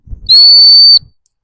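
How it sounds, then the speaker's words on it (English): A single sharp, loud dog training stop whistle blast, used on a working cocker spaniel gundog, shrill and steady for under a second, with a faint rustle before and after. "Start using that stop whistle from day 1."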